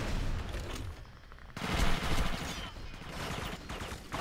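Gunfire in Red Faction 2 rattles in dense, continuous bursts close by, with a heavier surge of shots in the middle, over a noisy game backdrop with some talk.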